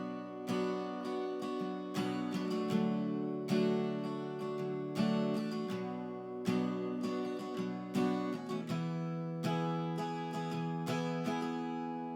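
Strummed acoustic guitar chords play the bridge of a song, a steady rhythmic pattern with full ringing chords changing every couple of beats, close and continuous with no voice.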